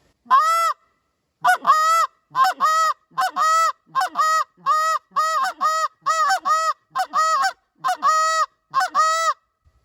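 A short reed Canada goose call is blown in a steady series of short honking clucks and drawn-out moans, about a dozen notes, loud and close with brief gaps.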